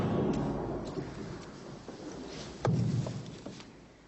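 A lightning strike and thunder from the film Biggles Adventures in Time: a continuous heavy rumble with a rain-like hiss, broken by a sharp, loud crack midway, then a rolling boom that slowly fades.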